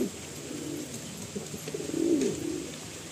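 A male pigeon coos up close, a low throaty burbling that rises into a stronger rolling call near the end over faint room noise.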